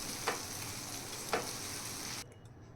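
Steady sizzling in a pan as mashed eggplant is mixed into a spice tempering, with two brief scraping strokes of a spoon, before the hiss drops away near the end.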